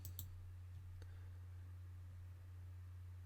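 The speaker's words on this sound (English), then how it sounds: "we're going to click Get Started" A computer mouse click, a couple of faint quick clicks at the start and another soft one about a second later over a low steady electrical hum.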